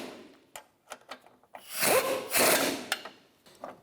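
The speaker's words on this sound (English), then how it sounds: "Now we're going to tighten these bolts up." Bolts on the front lower control arm bushing of a 2011-2019 Ford Explorer being tightened with a hand tool: scattered close metallic clicks, then two longer rasping ratchet-like bursts, with a few more clicks afterward.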